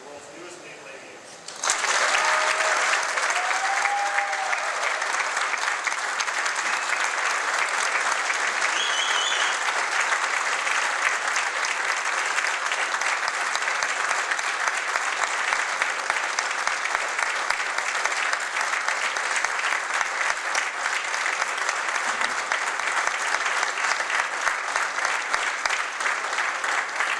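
Sustained, dense applause from a large crowd at a naval aviator winging ceremony in Pensacola, starting abruptly after a brief spoken line and continuing steadily for over twenty seconds.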